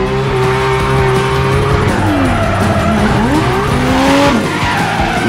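A competition drift car slides through a parking lot, its tires squealing in long, shifting screeches over a loud, steady engine roar that stays close throughout.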